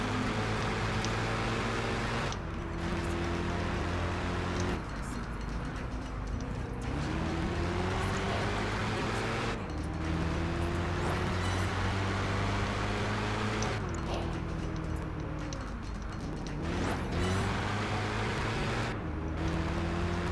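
A supercharged car's engine roars steadily in Project Gotham Racing 4, its pitch rising and falling with gear changes and acceleration, loud and continuous throughout with no talk over it.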